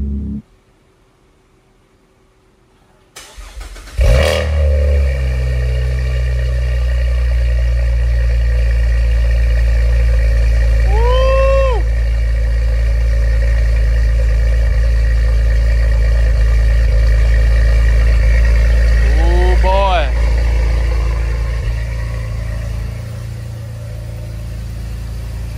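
A turbocharged car engine fitted with new downpipes cranks and fires up after a brief near-silence, then settles into a loud, deep, steady idle with a couple of rising whistle-like tones over it, close and without talk.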